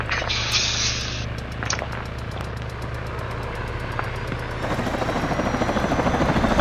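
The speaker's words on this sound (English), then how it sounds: "Oh, you're spawning your own chopper." A military helicopter in Arma 3 runs loud and close, its rotor chopping steadily over an engine drone and rising to heavier thumping near the end, with no talking.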